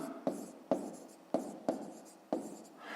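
A pen scratches across paper during a fifth-grade math exercise, making short, soft strokes in an uneven rhythm of about six bursts, faint and close, with no talking.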